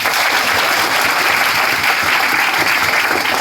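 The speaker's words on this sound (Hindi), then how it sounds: "उनके लिए एक बार जोरदार तालियां बजाएं" A large audience at a coaching-center motivational talk breaks into loud, continuous applause, thick and even with no pauses, filling the whole stretch without any speech.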